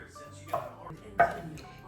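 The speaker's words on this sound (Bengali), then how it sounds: "এখন শাকগুলো সুন্দর করে কেটে নিব" A knife chops through Malabar spinach leaves on a board, giving two distinct, crisp chops about a second apart over faint background murmur.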